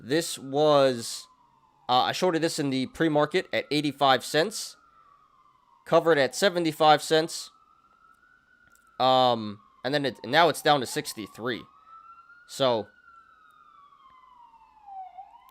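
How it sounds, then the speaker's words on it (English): Police sirens wail steadily outside, a rising and falling tone heard faintly behind someone talking close to the microphone throughout. "Really sorry about the sirens"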